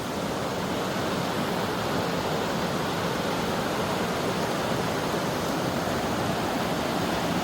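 Water of the Poonoor river rushing past at Mogayikkal, a steady dense broadband roar without pause, near and fairly loud, with no talking.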